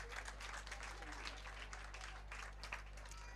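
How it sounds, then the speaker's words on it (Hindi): Seated audience clapping hands at a welcome gathering of the Mewad Shrimali Samaj community, a steady, dense patter of applause over a constant low electrical hum, with faint voices mixed in. "आप सभी लोग जो बैठे हैं वो आराम से दोनों हाथ बजा के तालियां बजा सकते।"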